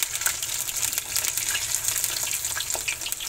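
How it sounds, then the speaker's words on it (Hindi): Wheat-flour breakfast snack pieces deep-frying in oil over a medium flame, a dense, even bubbling hiss with faint crackles, close and steady, with no voices. "हम यहाँ पे 3 फ्राई कर ले रहे हैं इसे, और मीडियम फ्लेम पे फ्राई करना है"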